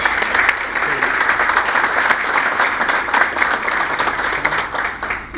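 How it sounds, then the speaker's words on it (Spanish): An audience at an end-of-year business breakfast applauds to welcome a guest engineer speaker, dense sustained clapping filling the room evenly for several seconds. "que es el ingeniero Luis Babanacao, para quien pido por favor un aplauso."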